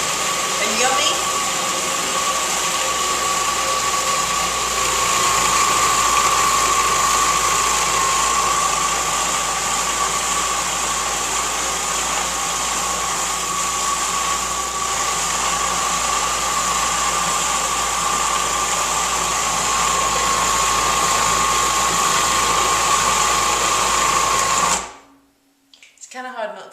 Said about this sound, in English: We're just going to blend that up.